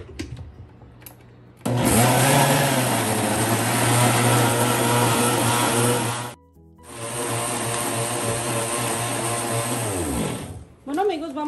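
Blender grinding a spinach mixture with water and a little salt for green tortilla dough, running loud and steady for about five seconds, a brief pause, then a second long run before stopping.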